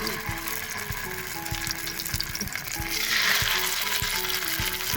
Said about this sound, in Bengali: তো তেল গরম হয়ে গেছে, আমি মাছগুলো দিয়ে দিব।